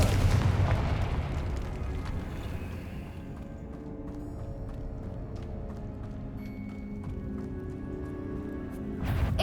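In the PS5 game Hogwarts Legacy, a Confringo fire spell explodes with a heavy booming burst right at the start, then fades into a low rumble with scattered crackles and small impacts.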